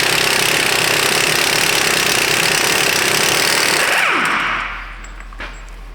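Air impact wrench with an impact socket working the front axle nut of a 2010 Toyota Corolla, a loud sustained hammering rattle for about four seconds that cuts off abruptly, leaving quiet shop hum.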